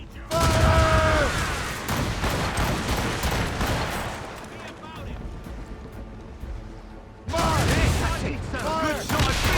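Ship cannons roar in Assassin's Creed Rogue, heavy booming volleys with crackling blasts that fade into a quieter rumble before another loud broadside erupts, with shouting crew voices mixed in.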